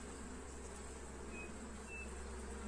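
A steady low insect buzz from honeybees around a weak hive, continuous and moderately faint, without voices.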